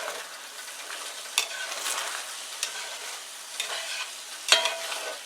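Spicy Chinese tofu and other ingredients are stirred together in a hot pan, a soft steady sizzle broken by a few sharp scrapes and clatters of the utensil against the pan, with no one speaking.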